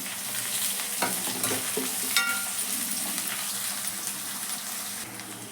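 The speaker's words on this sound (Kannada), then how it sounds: "ಕರಿಬೇವನ್ನು ಸೇರಿಸೋಣ. ಈರುಳ್ಳಿಯನ್ನು ಸೇರಿಸೋಣ." Onions and curry leaves fry in a pan with a constant sizzle, while several close scraping stirs and clinks of the spoon break through.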